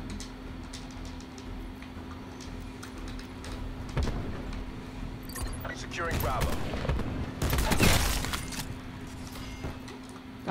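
Bursts of gunfire in a Call of Duty Black Ops 4 multiplayer match, several clustered shots and a louder volley near the end over steady background hum, with no one speaking.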